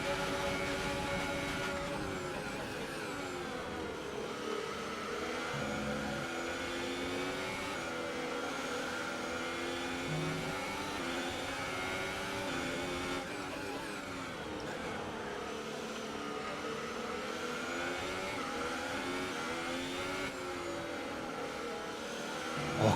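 Race car engine droning steadily through a lap of the F1 2018 video game at the Belgian round, a continuous loud harmonic whine with shifting pitch as the car accelerates and brakes, no talk over it.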